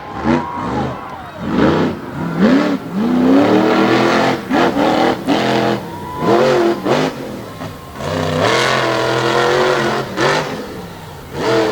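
A drag racing truck engine revs hard through a slap wheelie at a dirt track event, loud rising and falling surges close by with commentary voices over it.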